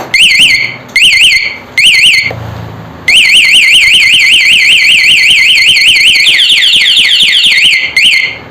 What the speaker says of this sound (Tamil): கண்டினியூஸாக அலாரம் வந்துட்டு தான் இருக்கும்